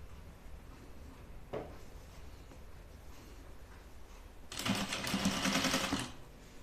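Sewing machine running with its bobbin nearly empty: quiet handling noise and a brief knock, then a short, louder burst of rapid stitching mid-to-late, fairly close.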